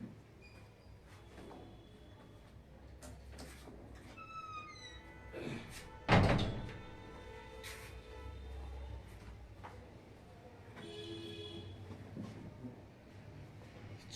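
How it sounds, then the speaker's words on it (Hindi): An office door swings shut with a single heavy thunk near the middle, preceded by some creaking and shuffling in a room with low background hum. "मैं थोड़ा सा ये दरवाज़ा भी बंद कर देता हूँ मेरी ऑफिस का"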